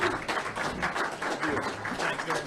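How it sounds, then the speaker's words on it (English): Audience applause at a recovery meeting fills the room with steady, dense clapping from a crowd, moderately loud and sustained throughout with no break. "Give him a big round of applause."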